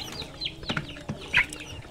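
Chickens in a crowded coop cluck and shuffle, with a brief flutter of wings and a sharper squawk near the end, fairly close and busy with no talking.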